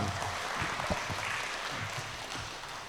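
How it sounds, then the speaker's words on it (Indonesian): Audience applause for Dr. Febri fills a hotel function room at a safety and lab-staff career workshop, a steady wash of clapping lasting the whole few seconds with no talk over it. "Aplaus untuk Dr. Febri dan kita semua."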